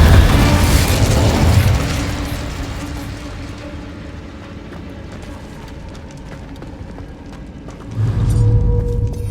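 The Incendio fire spell is cast in Hogwarts Legacy: a loud fiery burst with booming impacts at the start, a quieter crackling stretch, then a second heavy blast at the end.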